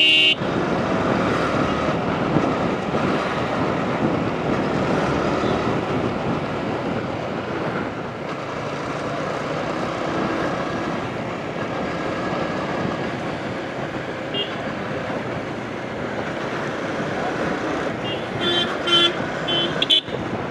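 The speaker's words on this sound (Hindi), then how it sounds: "सामने से भी कारें आ रही।" Cars pass on a busy city road near a park, heard from a moving vehicle: a steady, loud wash of traffic and engine noise with wind buffeting and a few horn toots toward the end.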